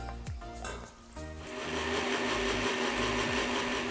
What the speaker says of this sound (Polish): a Ciebie poproszę o zblendowanie tego wszystkiego